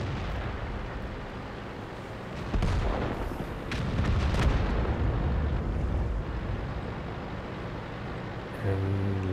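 Artillery shell fire in the tank game World of Tanks, heavy booming blasts and rumbling impacts layered over a dense, continuous battle roar, loud and near, with no speech.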